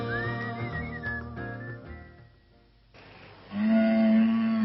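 Someone whistles a short tune, the melody wavering up and down before fading, then returning with a clear sustained whistled note.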